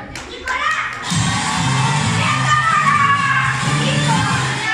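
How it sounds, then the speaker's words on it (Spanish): Audience at a live Cien Mexicanos Dijeron game show event in Puebla claps and cheers as team captains come forward, with a loud crowd roar, shouting children and a burst of clapping that swells after the first second. "Fuerte el aplauso y vamos a jugar."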